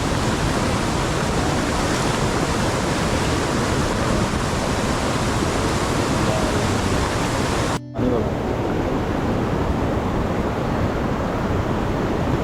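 Kajali river in the Konkan rushing in flood after heavy rain, a loud, steady, dense roar of surging water close by, continuous for the whole stretch with only a momentary dropout.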